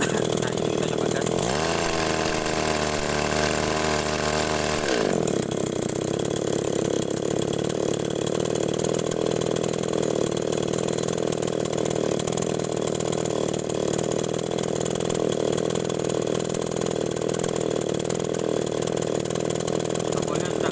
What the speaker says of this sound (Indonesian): Nah ini kita coba gas.